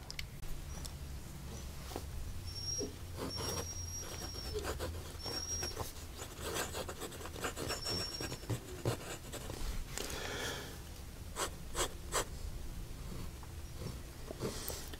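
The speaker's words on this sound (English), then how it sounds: "let's see how the nib writes." Vintage Parker Challenger fountain pen with a smooth nib writing on paper, a soft close scratching and rubbing in short repeated strokes, faint and quiet with small pauses between words.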